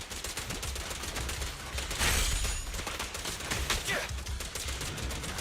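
Rapid, continuous gunfire in Zenless Zone Zero, a dense stream of sharp shots that barely pauses, loud and close, with a brighter burst of impacts partway through.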